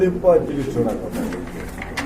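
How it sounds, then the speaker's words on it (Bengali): Red pigeons in a pigeon keeper's collection cooing, low throaty coos repeating at close range while people talk nearby. "এটাও কিন্তু সম্পূর্ণ রানিং কবুতর ডাকতেছে"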